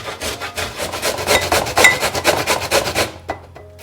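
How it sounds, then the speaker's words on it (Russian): One onion is rubbed against a grater in quick, even rasping strokes, close and fairly loud, about a dozen rhythmic scrapes before stopping with a couple of light taps. "я натру 1 луковицу"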